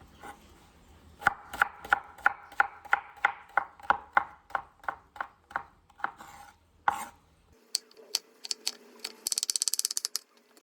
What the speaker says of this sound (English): I'm going to cut the ends. And then also chop it up in small pieces.